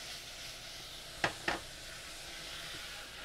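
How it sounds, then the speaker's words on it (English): Two quick hissing sizzles, like butter hitting a warm pan, over a quiet kitchen background. "Now we add our butter to the pan, which is kind of warm. It might sizzle."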